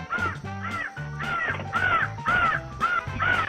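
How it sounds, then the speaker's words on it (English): A bird caws harshly again and again in a steady run of loud, close calls, each one rough and insistent, with barely a pause between them. "The bird really had some complaints about her and was very aggressive."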